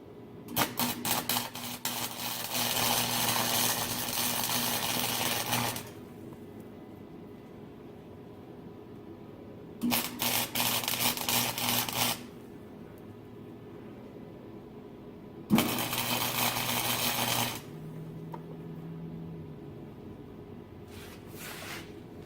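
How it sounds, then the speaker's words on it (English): A Chicago Electric MIG 170 flux core welder laying beads, three bursts of steady crackling buzz of several seconds each, separated by quiet pauses, loud and close with no talk. "let's finish up some of these welds"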